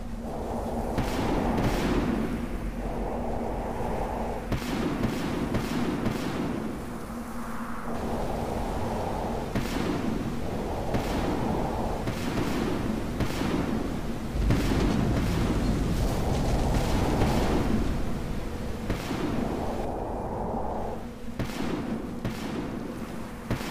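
Cannon fire during an airship battle in the game Air Buccaneers on a snowy map, a long run of heavy booming shots at an irregular rhythm over a steady rumbling background, no talk.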